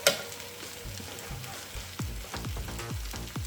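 Steak for Swiss steak frying in an electric frying pan, a steady close sizzle with a series of scraping, turning sounds from a utensil in the second half.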